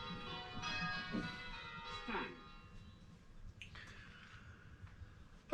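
Church bells ring rounds on a bell-ringing simulator, clear metallic strikes in a steady sequence whose tones sustain and overlap before giving way to a quieter ringing tail.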